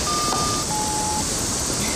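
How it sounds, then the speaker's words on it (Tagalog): A phone ringtone sounds as a steady electronic tone in short sustained beeps, moderately clear over a dense, noisy background with no speech. "Ringtone ni Daddy yun"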